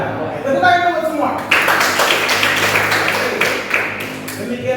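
Students applauding in a classroom, a burst of clapping from a group that rises suddenly and holds for a few seconds, with a teacher's voice speaking over the start.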